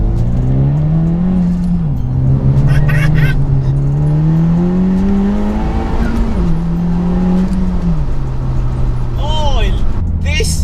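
A Honda Civic Type R (FK2) engine revving repeatedly through an aftermarket exhaust, its pitch rising and falling through several pulls, loud and close, with a brief voice near the end.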